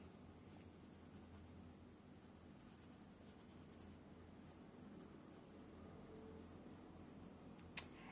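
Quiet, steady scratchy rubbing of a crayon or pencil coloring on paper, continuous and close, ending with a single sharp tap.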